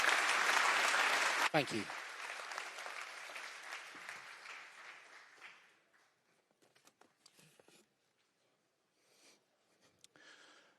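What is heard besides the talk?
conference audience applauding after a talk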